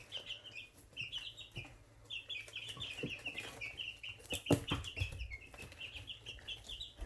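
Backyard chickens cluck and chirp in repeated short bursts throughout, fairly close, with scattered clatter and a sharper knock midway.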